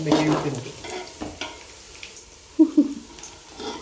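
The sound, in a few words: onions frying in a pan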